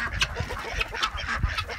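A flock of guinea fowl on a farm makes harsh, rapid honking calls that overlap in close, repeated bursts.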